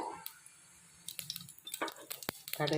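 Mustard seeds spluttering in hot oil for a Tamil rice rava upma kozhukattai: scattered sharp pops and crackles, sparse at first and quickening toward the end, close and fairly faint over a low background hum.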